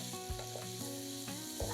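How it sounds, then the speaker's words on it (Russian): Steady sizzling of apples frying in butter in a pan over medium heat, with occasional soft scrapes and knocks of stirring, close up and fairly quiet. "Все готовим на среднем огне, периодически перемешивая."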